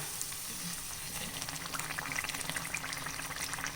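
Mutta appam, a Kerala egg pancake, frying steadily in a pan, a continuous soft sizzle and bubbling hiss with no talk.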